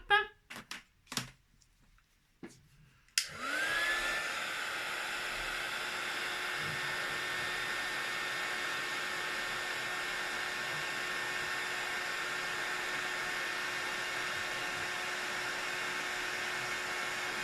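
A heat tool melting embossing powder on a cork card switches on after a few brief knocks and soft speech, then blows a steady whooshing whine with a rising tone at startup, continuous to the end.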